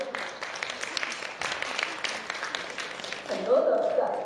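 Fans applauding at a film premiere; a steady patter of clapping runs under a person talking, swelling louder toward the end.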